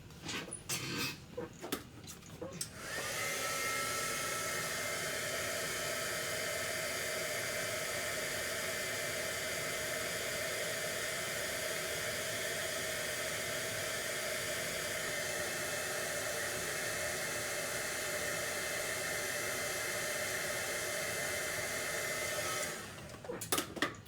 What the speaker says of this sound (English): I'm gonna have to step out of frame to use my heat gun